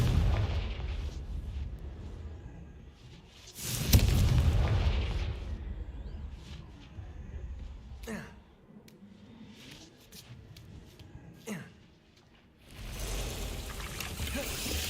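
Confringo, the explosive fire spell in the Hogwarts Legacy video game, bursts with a loud broadband blast, followed by scattered fiery crackles and sharp impacts, then another roaring surge near the end over steady game ambience.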